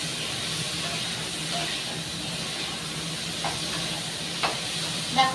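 Okra and tomato fry in a pan, giving a soft, steady hiss with a few faint clicks and pops near the end. No one speaks.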